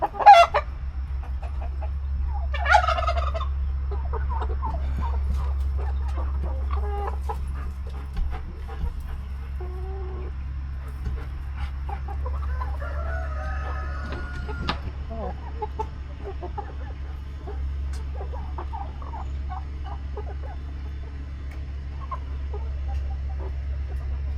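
Hens clucking and a rooster crowing inside a coop, close and fairly loud over a steady low hum, with bursts of calls near the start and scattered softer clucks throughout; no talking.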